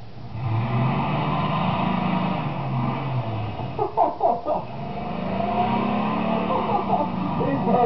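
A 1999 Ford Ranger pickup stuck in snow on a woodland trail, its engine revving hard and steady, with rising and falling pitch and a brief stuttering surge midway, loud and close.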